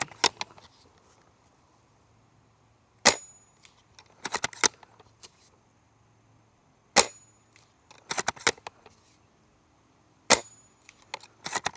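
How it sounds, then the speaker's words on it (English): Upgraded-hop-up airsoft VSR/SSG bolt-action sniper rifle fired outdoors: four sharp, loud cracks at spaced intervals, with bolt clicks and mechanical handling rattles between shots and a quiet background hum. "Very consistent shots,"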